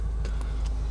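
A 2015 Subaru WRX with a new clutch drives on the road, its steady low engine and road rumble filling the cabin, with a few faint ticks and knocks above the drone.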